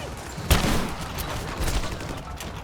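Gunfire in a video game fight at the edge of a village, with a sharp loud shot followed by a sustained crackle of rapid fire and a second swell of shots, close and harsh.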